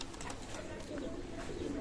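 A golden pigeon gives a soft, low coo, faint and brief against quiet background noise.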